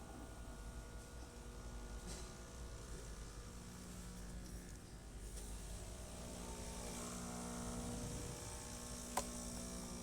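A Breville Dual Boiler espresso machine's pump runs a test shot after a full tune-up. It makes a low, steady motorized drone and hum with a slight rise partway through and a faint click near the end, quiet and close, with no voices.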